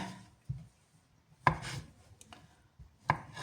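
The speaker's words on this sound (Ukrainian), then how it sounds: "беремо нашу картоплю і ріжемо її" A knife cutting potatoes on a board, with a few sharp chopping thuds spaced over a few seconds and soft rubbing between them, close and fairly quiet.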